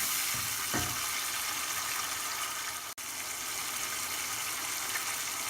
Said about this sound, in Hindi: अच्छा से सौटे करना है टोमेटो पेस्ट को